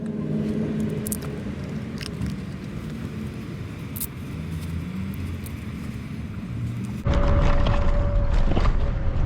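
A Wolf King GT electric unicycle with a new tire rides on the road, giving a steady rumbling wind-and-road noise that grows abruptly louder and rougher near the end.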